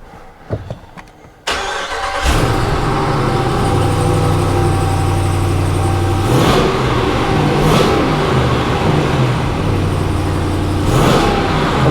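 A brand-new 2021 Ram Power Wagon with a custom-fabricated dual exhaust cranks to life after a short silence, then idles with a loud, close, throaty groan, punctuated by three sharp revs.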